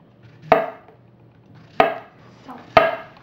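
A knife cuts through a partly peeled zucchini on a board in three sharp, close chops spaced about a second apart, with a fainter tap between the last two and no talking.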